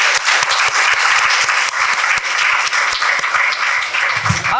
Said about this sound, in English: one more round of generous applause for Eclipsed Hues